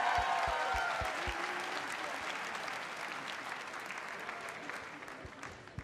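Applause from a basketball fan audience fills the whole stretch, a steady dense clatter of clapping that starts strongest and tapers only slightly, with a few sharper individual claps standing out near the front.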